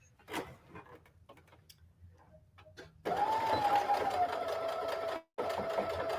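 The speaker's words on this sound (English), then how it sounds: "I'm just going to run me a line of stitching because it's going to be inside my bag." A sewing machine stitches a seam of white thread through patchwork denim and scraps, a few faint clicks first, then a loud steady whirring run that pauses briefly and restarts.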